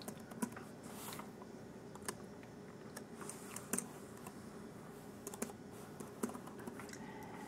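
Keyboard keys clicking as a search term is typed on a computer, a short run of light taps over faint room hiss.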